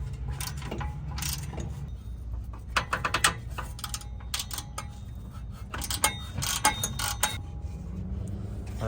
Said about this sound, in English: we're gonna get these bolts off the Y-pipe on both sides.